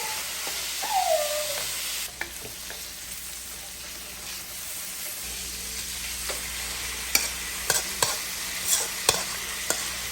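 Small cut-up marinated chicken pieces frying in a pan at home, a steady broad hiss of sizzling with a few sharp clicks and taps of utensils toward the end, no voices.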